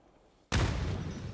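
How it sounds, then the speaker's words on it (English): A grenade blast in PUBG during a pro scrim: after near-silence, one sudden loud boom hits and rumbles on with a broad, noisy roar for almost a second. "Oh, nice nade against Flores."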